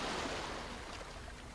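Steady, faint rush of ocean waves washing onto a beach, a continuous hiss of surf with no distinct breaks.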